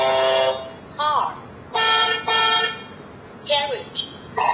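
A car horn from a children's electronic sound book, several loud, flat toots close up, with short bursts of speech between them.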